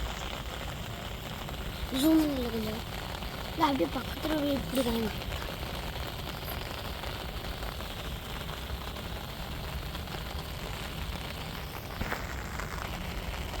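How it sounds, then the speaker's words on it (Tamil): Heavy daytime rain pours down in a village garden where plants are being set out, a steady hiss of rain throughout, with people talking briefly over it in the first few seconds. "நல்லா மழை அடித்து ஊற்றிக்கிட்டு இருக்குது பாருங்கள்"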